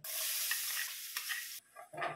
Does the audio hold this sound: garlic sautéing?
yes